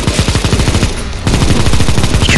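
Rapid automatic gunfire rattles loud and close in CS:GO zombie escape mode as players shoot at zombies, a dense stream of shots that pauses briefly near the middle and then resumes.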